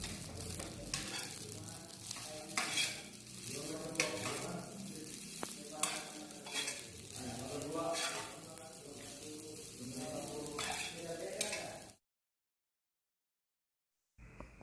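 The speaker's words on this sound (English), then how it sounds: "And stir again until evenly distributed." Simple fried rice sizzles in a hot pan while being stirred, with repeated scraping strokes and a constant frying hiss that stops abruptly near the end, followed by brief silence.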